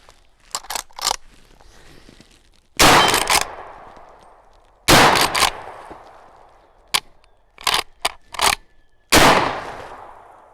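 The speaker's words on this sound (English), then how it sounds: "Let's get to shooting." Firearm shots at an outdoor shooting range, several loud sharp reports fired singly and in quick pairs, each followed by a ringing decay, with lighter clanks and handling noises between them.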